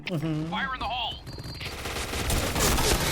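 Bursts of K-2 rifle gunfire in the Point Blank shooting game crackle as a dense rapid volley, following a short stretch of a person talking and continuing loudly to the end.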